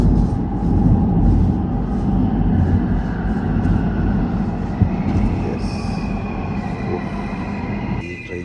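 A Riyadh Metro train sits at a station with a loud, steady electric hum and rumble, faint whining tones and a few soft clanks and hisses, with no talk.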